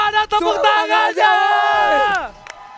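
Crowd at the MPL Season 6 mobile esports grand final, game five of RRQ Hoshi versus Alter Ego, roaring and yelling in a loud, sustained cheer that swells for about two seconds and then fades away.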